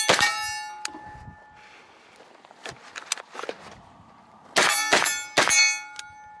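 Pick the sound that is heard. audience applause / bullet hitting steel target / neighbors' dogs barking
bullet hitting steel target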